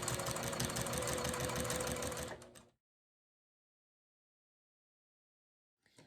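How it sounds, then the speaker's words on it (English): A sewing machine runs steadily as it stitches binding onto a quilt. It gives a dense, close mechanical whir for about two and a half seconds, then stops abruptly into silence, with a brief restart at the very end. "I'm going to back stitch and just start sewing at that 1/4 inch"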